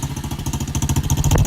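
An SSR 125 dirt bike engine with a swapped muffler runs cold just after a kickstart, a steady rhythmic low thumping idle close by, with no talk.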